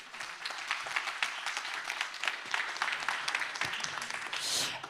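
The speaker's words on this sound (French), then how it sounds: "Et on peut l'applaudir bien fort également" At an inventors' award ceremony, an audience applauds a chemist and start-up founder receiving a Green Tech prize, a fairly faint, continuous patter of many hands clapping with no voices on top.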